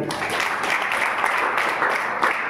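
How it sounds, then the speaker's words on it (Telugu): An audience claps steadily and continuously at a gathering, a dense, even patter of many hands with no voices over it. "ఎంతో ఎక్కువ మంది ఎక్కువ చప్పట్లు ఎక్కువసేపు కొట్టారు"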